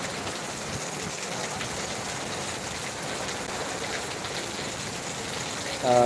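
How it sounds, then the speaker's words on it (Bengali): Heavy rain pouring over a market in Bhangar, a dense, even roar of downpour held constant throughout, loud and close with no clear voices. "প্রচণ্ড হারে কিন্তু বৃষ্টি শুরু হয়েছে ভাঙড়ে"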